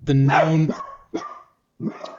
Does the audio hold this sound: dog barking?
yes